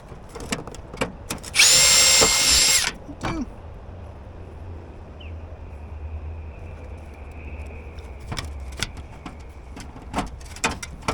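A power tool fitting rivets into a simple spreader: one loud burst of whirring for about a second, surrounded by quiet clicks, taps and handling knocks of the workpiece.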